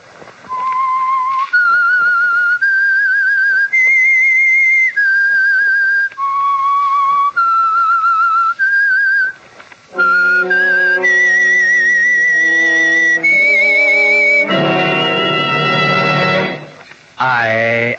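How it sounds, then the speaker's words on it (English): Lone whistler performs the eerie theme of The Whistler radio program, a clear melodic line of held, sliding notes, then a louder orchestral passage picks up the tune near the end. "That whistle is your signal for the Signal Oil program,"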